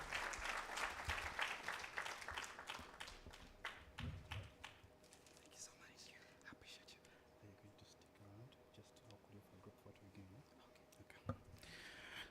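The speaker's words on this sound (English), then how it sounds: "another round of applause for engineer" Applause at a career talk event right after a speaker finishes, starting as dense clapping and thinning into scattered claps and taps, with some talk and room noise underneath.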